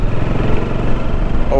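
A motorbike rides along a smooth mountain road near Almora in Uttarakhand, its engine droning steadily and loudly throughout with a constant close rumble.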